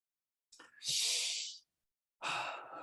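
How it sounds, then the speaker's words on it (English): A single long, audible breath drawn in and released, loud and close, followed after a short pause by a second airy exhale, with no talking. "Take a deep breath"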